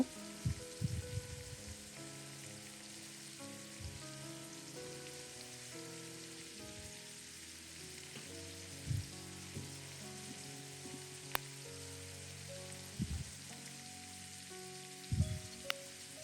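Finely chopped coconut fries in a pan with shrimp masala, a low steady sizzle broken by a few brief stirring clatters and knocks.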